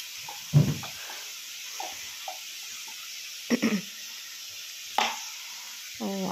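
Greens for betho shaak being stirred in a pan with turmeric and cumin powder, a few separate scraping and clinking stirs standing out over a faint, steady sizzle.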